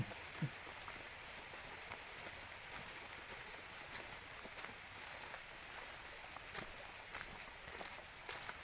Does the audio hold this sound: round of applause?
no